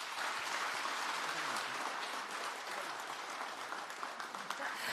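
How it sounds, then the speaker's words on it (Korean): A large audience at the 54th Parents' Day ceremony in Korea applauds warmly, dense continuous clapping filling the hall at steady volume with a faint murmur of voices beneath. "여러분 다시 한번 뜨거운 박수 부탁드립니다."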